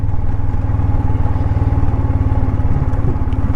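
An adventure motorcycle rides over a rough road in India, its engine thrumming in a steady, close, loud pulse with faint rattles over the top.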